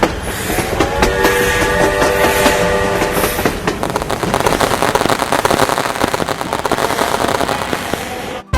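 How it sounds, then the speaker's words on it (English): A train pulling into a station in an Android railway game, with continuous loud rolling rail clatter, rhythmic clicks and tonal horn-like hums at first, no talking. "The train has arrived."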